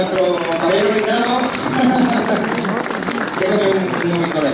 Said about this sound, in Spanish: Un aplauso para nuestro compañero invitado.